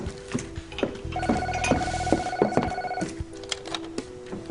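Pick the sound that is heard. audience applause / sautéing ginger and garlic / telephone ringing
telephone ringing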